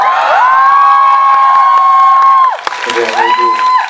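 Fans and audience shout and cheer in long, high sustained whoops at a Korean film promotion event for the disaster action movie Exit, loud and close with a brief dip before the cheering swells again.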